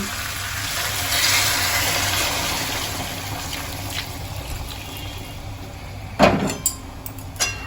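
Hot water pours into a pan of Bengali cauliflower and potato curry, a steady gushing splash that gradually softens, ending with a few sharp clinks from utensils.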